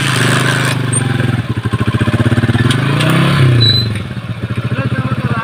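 A motorcycle engine runs close and loud with a steady throbbing idle pulse that revs up briefly, alongside background chatter and clatter.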